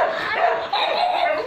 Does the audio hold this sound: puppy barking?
yes